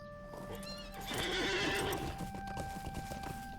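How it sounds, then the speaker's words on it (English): A horse in the Shire area of the fantasy online game LOTRO whinnies as it is mounted, with clip-clopping hooves beneath a steady game ambience and music; the neigh rises mid-clip and the hoofbeats carry on to the end. "So let's jump on our horse."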